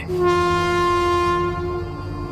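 A cartoon train sounds its horn in one long, loud, steady blast as it approaches, with rumbling rail noise underneath.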